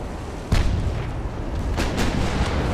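A light cruiser's 10-inch naval guns fire in the video game Ultimate Admiral: Dreadnoughts: a sharp loud boom, then several more reports in quick succession over a steady rumbling background, with no voices.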